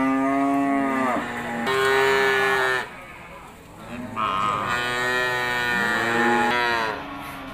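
Cattle moo repeatedly at a livestock market in South Kalimantan, several long, loud, tonal calls overlapping one after another, with market background noise underneath.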